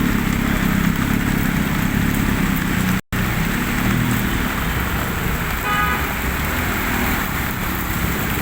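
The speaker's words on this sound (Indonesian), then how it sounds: "Hujan sangat lebat" Heavy rain falls on a busy road in Cimahi, its steady broadband hiss blending with passing car traffic and an occasional horn toot, continuous and loud throughout with a brief dropout midway.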